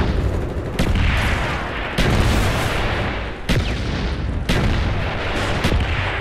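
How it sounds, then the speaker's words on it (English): Friendly mortar rounds strike in Call of Duty Black Ops multiplayer, a series of heavy booming impacts landing roughly every second, loud and close with no talk. "Friendly mortars inbound."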